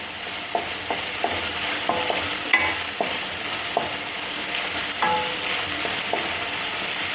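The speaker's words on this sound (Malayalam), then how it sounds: "എണ്ണ നന്നായി ചൂടായി വന്നതിന് ശേഷം നമുക്ക് നേരത്തെ അരിഞ്ഞു വെച്ചിരിക്കുന്ന ഇഞ്ചി ചേർത്ത് കൊടുക്കാം ഇനി ഇത് നമുക്ക് നന്നായി ഒന്ന് ഇളക്കി കൊടുക്കാം" Chopped ginger frying in hot oil, a steady close sizzle with intermittent scrapes and clinks of a spoon stirring through the pan for the whole stretch.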